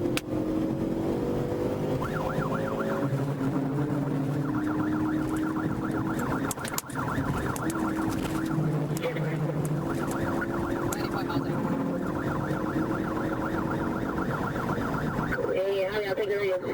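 A police trooper's siren wails with a rising and falling warble during a high-speed highway chase southbound on SR 826, steady and loud over a constant roar of engine and road noise for the whole stretch.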